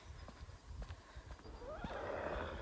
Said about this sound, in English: that fucking horse scared me